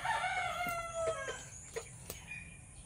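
A Bulik gamefowl hen gives a drawn-out call followed by a few short clucks, fairly close, over quiet background.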